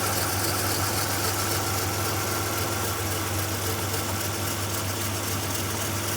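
A 1995 Dodge Caravan with a freshly replaced front valve cover idles with a slight idle noise, giving a steady, close, continuous engine hum and rumble that holds an even level throughout, with no voices.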